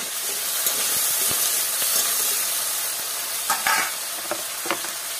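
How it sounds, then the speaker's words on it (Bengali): Potatoes fry in hot oil with salt and turmeric in a village kitchen, giving a steady close sizzle and hiss punctuated by a few stirring scrapes. "আলু নুনটা দিয়ে ভেজে নেবো"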